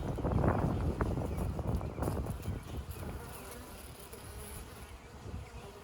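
Honey bees hum and buzz around an open beehive fed with a mason jar in early spring, a close, dense drone with individual bees passing near, louder at first then settling to a steady buzz.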